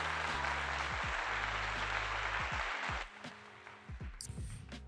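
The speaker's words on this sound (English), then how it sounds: "Round of applause for that." Dense audience applause fills the first three seconds over a low, rhythmic music bed, then drops away abruptly, leaving the music and a few scattered sounds.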